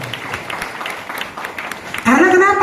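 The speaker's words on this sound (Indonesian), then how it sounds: "Tepuk tangan dong semuanya, luar biasa." Audience at an indoor parenting seminar clapping, a patter of applause for about two seconds before a voice speaks loudly over the end.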